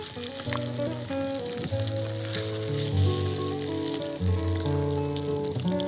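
Fish pieces frying in a pan for a Bengali rui fish dish, a steady sizzle running throughout with some music or tonal sounds layered over it and no talking.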